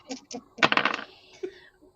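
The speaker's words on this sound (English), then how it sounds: "Flothulhu, would you like to give us your dice roll, please?" Dice roll during a tabletop game: two light clicks, then a short rattling clatter as the dice tumble and settle on a hard surface nearby, followed by a faint tap.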